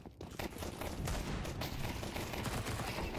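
Desert Eagle pistol fire in a competitive Counter-Strike match, a loud dense barrage of shots and gunfire clatter packed together with no break.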